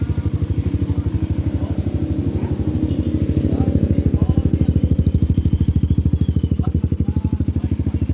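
Kawasaki KLX 150 motorcycle engine idling close by during adjustment, a steady fast thumping beat that swells slightly partway through, with faint talk underneath.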